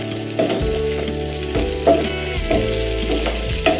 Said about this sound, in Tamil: அடுப்பை கொஞ்சம் மீடியம் சைஸில் வச்சு ஒரு அஞ்சு நிமிஷம் நல்லா வறுத்து எடுத்துக்கலாம்